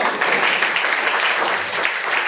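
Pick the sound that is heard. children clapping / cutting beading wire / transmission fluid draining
children clapping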